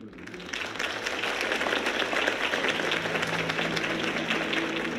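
Crowd applause after a campaign speech in the Batman Telltale Series video game, a dense, steady wash of many hands clapping that swells in and holds at moderate volume.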